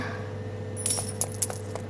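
Several quick, bright coin-pickup chimes from the Roblox game Barry's Prison Run ring out in the second half over a steady hum of background game audio.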